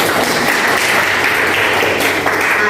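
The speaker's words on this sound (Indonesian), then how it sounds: "Tepuk tangan buat teman kita." Students in a classroom applauding a classmate, a loud continuous patter of many hands held at an even level for a few seconds.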